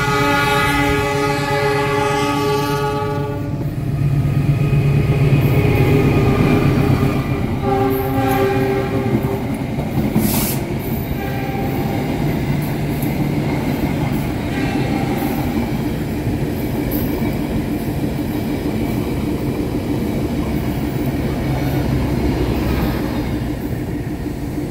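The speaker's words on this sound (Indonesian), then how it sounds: "Kereta api Lodaya sudah melintas" The Lodaya passenger train sounds its horn loudly as it nears a high mountain station in Indonesia, then rumbles past close by with a steady, heavy roar of wheels and cars for a long stretch.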